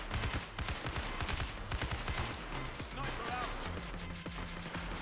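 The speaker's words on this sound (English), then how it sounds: "Shotguns." Shotguns and other weapons fire in rapid, overlapping bursts during a Payday 2 jewelry store heist, with sharp blasts clustered close together amid the chaotic din of a game firefight.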